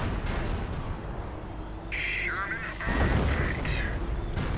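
Incoming enemy artillery fire in a US-versus-Wehrmacht 1v1 strategy game match, with rumbling booms and crackling impacts running steadily across the clip under a dense battle mix.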